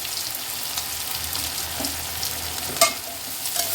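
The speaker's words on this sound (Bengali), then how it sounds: "আস্তে আস্তে সময় নিয়ে ডাটাটা ভাজতে হবে" Red amaranth stems fry slowly over medium heat, giving a steady soft sizzle with occasional stirring sounds and one sharp clink, no voices.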